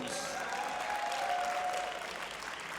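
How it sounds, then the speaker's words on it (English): Crowd applause for the silver medalist after the English Open women's senior final, a steady wash of clapping from a sizable audience, with a brief tonal whistle or ring over it. "And a big round of applause for our silver medalist who fought to the very end, Tara Jones."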